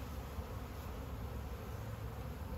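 A steady, dense buzzing of many honeybees on a farm, close and continuous, with no pauses or other sounds.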